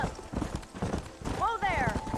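Hooves clip-clop rapidly as a horse gallops in the Red Dead Redemption video game, with a whinny partway through and a voice speaking over the hoofbeats.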